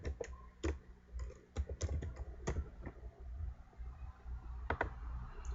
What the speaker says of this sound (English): So these are the arrow buttons on the keyboard.